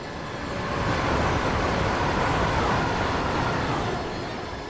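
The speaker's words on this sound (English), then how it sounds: ".465 going in the opposite direction." In Train Sim World 3, a Class 465 train passes in the opposite direction: a broad, rushing rumble that swells over a couple of seconds and then fades, with no talking.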